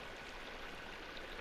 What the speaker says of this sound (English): here is your sewage